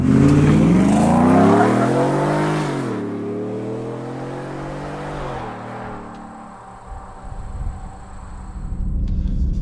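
Supercharged Ford F150 truck accelerating hard from 0 to 60, its engine roaring loudly and rising in pitch through a gear, dipping briefly at a shift, then climbing again with a supercharger whine, with no talk.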